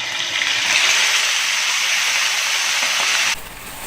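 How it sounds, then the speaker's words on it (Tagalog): Tuna frying in about a quarter cup of oil in a pan gives a loud, steady, close sizzle that holds for several seconds, then cuts back abruptly to a quieter hiss. "Lulutuin na natin yung tuna, guys. Lalagay na po natin yung mantika."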